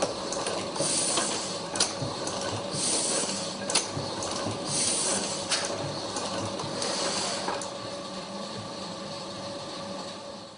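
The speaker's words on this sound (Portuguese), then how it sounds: "É muito difícil hoje ver uma Linotype, uma dessas máquinas, em funcionamento" A Linotype typesetting machine runs alone with steady mechanical clatter, ticking and hiss, with repeated sharp clicks and knocks over a continuous whirring bed for the whole stretch.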